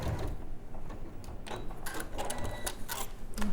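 A sewing machine stitches fabric for a cross stitch project in a rapid, continuous mechanical whir with a regular ticking rhythm. It is close and fairly steady throughout.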